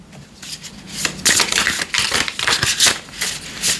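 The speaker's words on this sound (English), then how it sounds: "I want to shuffle these a bit more before they just jump out" A tarot deck is shuffled by hand in quick, crisp riffling bursts, close and fairly loud, with no talking.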